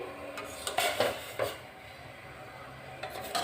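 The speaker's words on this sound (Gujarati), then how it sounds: "અહીંયા આ બેટર ભરેલા ગ્લાસ છે એને આપણે આ રીતે ગોઠવી દેવાના છે" Glasses filled with batter are set down inside a pressure cooker, producing a few soft clinks and scrapes of metal and glass against a quiet background.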